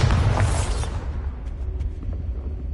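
A Bombarda blasting spell detonates in Hogwarts Legacy: a sharp, heavy explosive burst up front, then a rumbling, crackling tail that gradually fades.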